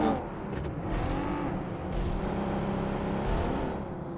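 A vehicle engine in the battle-royale video game PoV day 6 match 4, a steady continuous drone with a few faint passing swells, heard without any talk.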